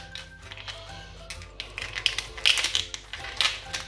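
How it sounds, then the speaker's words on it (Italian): Kitchen scissors snip and crack through a lobster tail shell, a close sequence of irregular crunchy clicks and taps that grows louder toward the end. "Quindi con le forbici facciamo un taglio così."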